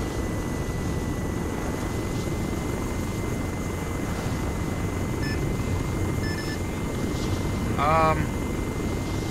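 A Chinook helicopter in a military video game drones with a steady low rotor rumble, while radio chatter and beeps sound over it.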